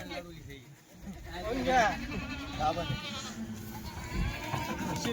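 Kathiawari goats bleat in a farmyard at Chalisgaon, several wavering calls overlapping with nearby human talk and general background noise.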